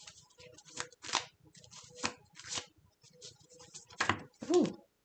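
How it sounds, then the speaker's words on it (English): Several quick bursts of tarot cards riffling and snapping together as they are shuffled, near and fairly loud, in irregular clusters with brief pauses between. "I'm going to shuffle these again"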